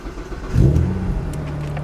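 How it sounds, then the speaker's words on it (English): A Magna motorcycle engine is cranked over just after its fuel pump was replaced, a low, steady mechanical drone that rises suddenly and holds at a fairly loud, close level without catching and running. "So we'll crank it a couple of times so that way it's got pressure at the pump"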